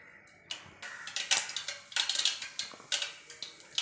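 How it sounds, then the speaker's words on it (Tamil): Mustard seeds pop and crackle in hot oil in a cooking pot while making banana stem soup, a close run of sharp, irregular ticking bursts over a faint hiss. "கடுகு பொரிஞ்சிருச்சுங்க."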